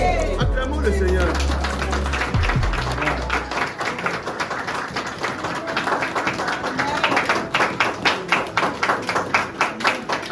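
Congregation in a church applauding together, a steady run of claps that grows more rhythmic and pronounced, following a brief spoken exclamation at the start.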